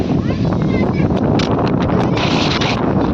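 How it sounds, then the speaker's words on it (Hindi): Strong wind buffets the microphone in a steady, loud roar with gusty rustling on top, filling the whole clip. "इतनी तेज़ हवा चल रही"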